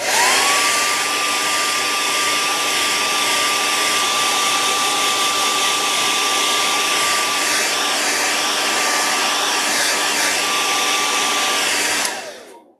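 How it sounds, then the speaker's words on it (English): Hair dryer blowing steadily on freshly painted jerkbait fishing lures, a loud, close, continuous whir with a constant high whine that runs for about twelve seconds before cutting off abruptly. "I'm going to go ahead and hair dry what we did."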